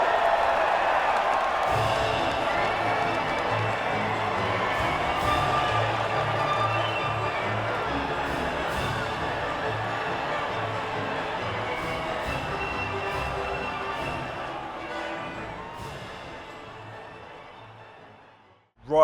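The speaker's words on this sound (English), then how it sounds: "the reaction from the crowd must be incredibly uplifting for them" Crowd cheering and applause at the podium after the Bahrain Grand Prix in the racing game F1 2019, a steady loud roar of voices with whoops that holds for most of the span before cutting off abruptly.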